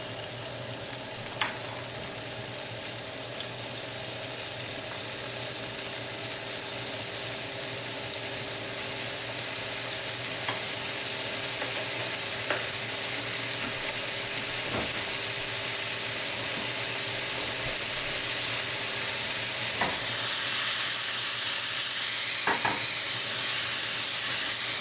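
Cherries sizzle and fry in hot olive oil in a pan, a steady close hiss with occasional soft pops and stirring clicks, running continuously without talk.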